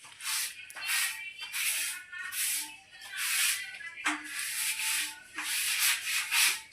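Kitchen surfaces are wiped down with soap and water, giving close, rhythmic rubbing and scrubbing strokes in repeated bursts with short gaps between them.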